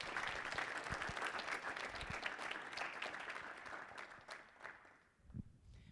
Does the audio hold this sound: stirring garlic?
no